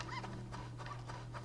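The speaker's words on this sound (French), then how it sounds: "Le petit chien poilu." A little furry dog in the video game Toem, heard as soft whimpering and panting yips that repeat several times at moderate volume over a steady low game hum.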